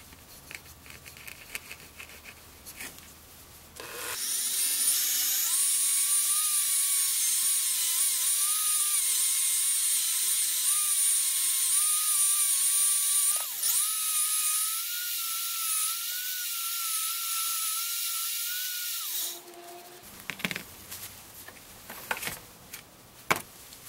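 A drill spins a coin ring during polishing, giving a sustained high-pitched motor whine that starts abruptly, holds steady with slight wavering for about fifteen seconds, then cuts off, leaving quiet handling noises.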